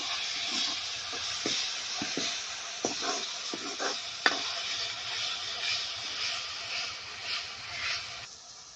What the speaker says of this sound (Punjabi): ਮਸਾਲੇ ਨੂੰ ਆਪਾਂ ਭੁੰਨ ਲੈਂਦੇ ਆ ਚੰਗੇ ਤਰੀਕੇ ਨਾਲ